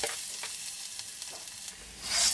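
Garlic dropped into hot cooking oil in a pan for a tofu picadillo, producing a continuous close sizzle that swells into a louder burst of frying hiss near the end.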